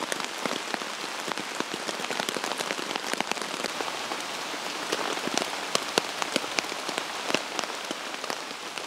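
Rain falls during a solo wild camp, a dense steady patter of drops striking a nearby surface, with sharper close taps scattered through the constant hiss and no voices.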